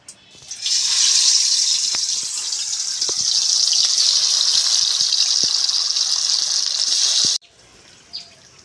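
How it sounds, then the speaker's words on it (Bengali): Bata fish hit hot mustard oil in a pan with a loud, steady hiss and crackle that holds for several seconds, then cuts off abruptly, leaving faint quiet sounds. "আমি এবারে সর্ষের তেল দিয়ে দেবো মাছগুলো ভেজে নেব"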